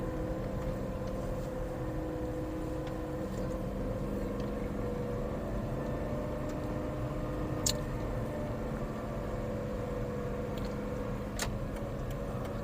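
A manual car climbs uphill in first gear, its engine a low steady drone from inside the cabin with a couple of faint clicks, no talking.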